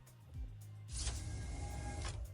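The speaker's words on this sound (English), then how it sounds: "Almost immediately, the door slides open." A sliding door opens in a video game with a brief whir, then a steady airy mechanical hiss that runs for about a second before easing off.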